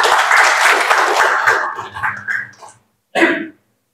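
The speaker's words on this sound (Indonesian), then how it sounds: "Kita beri tepuk tangan" An audience at a scout council meeting in Kolaka Timur claps in a dense burst that thins out after a couple of seconds, followed by a brief, separate sound.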